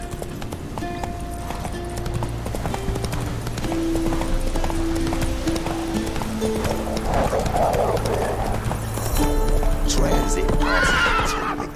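A horse gallops with rapid clip-clop hoofbeats and lets out loud whinnies in The Witcher 3, heard close over game music, with a brief spoken word partway through.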